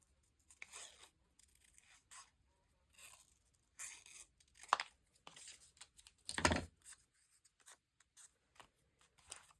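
Scissors trim a paper moth cutout for a collage journal, making close, quiet snips and crisp paper rustles in short irregular bursts.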